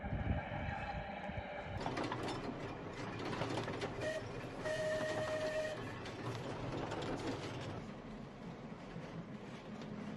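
A tram rumbles and rattles past steadily, with faint squealing tones from the wheels and rails, heard from a short distance in open air.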